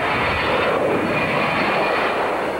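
A fixed-wing aircraft's jet engine roars with steady, powerful thrust, a loud continuous broadband rush that holds without a break and has no voices over it.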